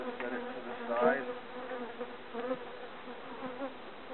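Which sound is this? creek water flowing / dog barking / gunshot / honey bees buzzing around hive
honey bees buzzing around hive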